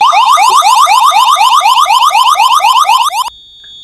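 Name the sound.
alarm sound notification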